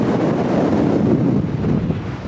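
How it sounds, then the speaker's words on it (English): Strong wind buffeting the microphone outdoors in the Eastern Sierras near the Alabama Hills, a loud, continuous low roar that rumbles and gusts unevenly throughout, with no other sound standing out. "Ooh, it's windy."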